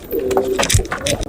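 Domestic pigeons moved into a new loft give a brief, close, soft cooing call, with faint rustling around it.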